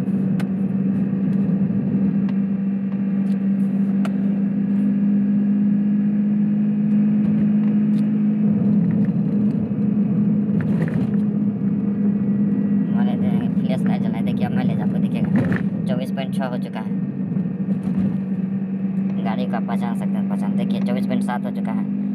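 A car cruises at a steady speed, its engine hum holding an even, constant drone throughout, with voices talking over it in the latter half.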